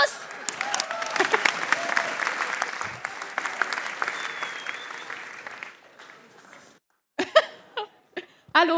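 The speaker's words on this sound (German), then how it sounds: "Applaus." Applause from the audience at an award ceremony for the VD Award 2023, loud and sustained for several seconds before fading out, followed by a few scattered sharp sounds and shuffling.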